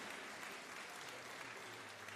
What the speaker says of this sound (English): Can we welcome them to Hawaii with a big round of applause?